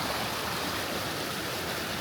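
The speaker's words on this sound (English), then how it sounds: "Got a nice creek here" A woodland creek beside a campsite on the road from Watson Lake rushes steadily and fairly loudly, an even, continuous wash of flowing water with no voices.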